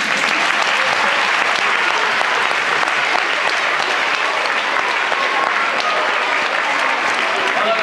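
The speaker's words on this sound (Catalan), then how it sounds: "voldria començar demanant un fort aplaudiment ben merescut per vosaltres mateixos" Audience at a school reading-contest prize ceremony applauding, a loud, continuous wash of clapping from a large crowd that holds steady without a break.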